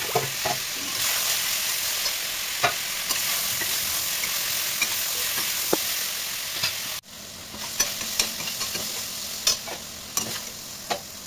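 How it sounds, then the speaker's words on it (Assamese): Mushrooms fry in oil in a kadai over high flame, a loud continuous sizzle with sharp spatula scrapes and taps at irregular intervals, then the sizzle briefly drops before clinking stirring resumes, close and without talk. "হাই ফ্লেমত মাছৰুমখিনি ভাজি ল'ব লাগিব।"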